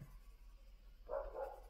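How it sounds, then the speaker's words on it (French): A dog barks a couple of times in the distance, faint and muffled against a quiet room background. "Ah, le chien qui aboie, évidemment,"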